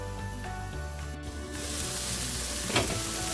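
A burger patty sizzles in a hot pan, a quieter fizz that swells after a second into a loud, dense crackle with one brief sharper burst near the end.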